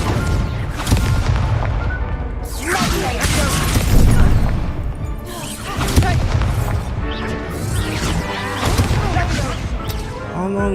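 A Confringo fire spell blasts in the Hogwarts Legacy video game on PS5, giving repeated loud explosive booms and crashes amid chaotic duel effects and background music, with a player's voice occasionally heard.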